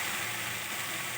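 Onion and spices frying in a pan for a fish curry give a brief, steady hiss of hot oil, close and even, with no talking.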